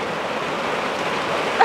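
Steady rain pours with a constant broadband hiss, like wind-driven rainfall close by, uninterrupted with no voices.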